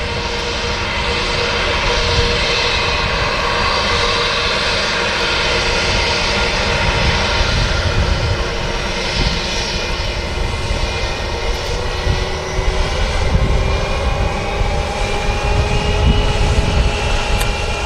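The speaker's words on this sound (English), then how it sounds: "Lufthansa A321." Lufthansa Airbus A321 jet at Manchester Airport, a loud, close engine roar with a rising, shifting whine that swells and ebbs slightly over its length, no speech.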